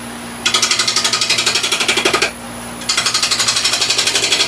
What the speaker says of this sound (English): let's start with a 3/8 gouge, usual thing, skim things down a little bit.